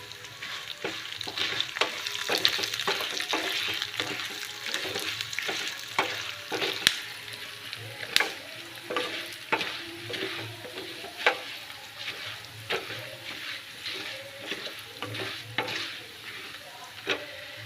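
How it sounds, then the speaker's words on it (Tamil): Spices frying and being stirred in a pan for vatha kulambu, a steady close sizzle broken by repeated scraping and clinking of a ladle against the pan. "நல்லா செவக்க வறுத்துட்டு காட்டுறேன் பாருங்கள்."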